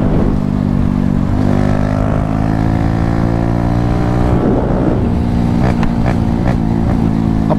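Honda Pop 110 motorcycle fitted with a Mini 3 exhaust revs loudly and steadily up close, its engine note holding then rising in sharp bursts near the end, with no talking.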